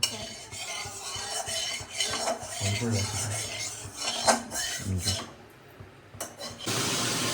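A spoon stirs sugar into a cooking pot in a home kitchen where fish is frying, giving repeated metallic clinks and scrapes against the pot at close range, with kitchen clatter around it.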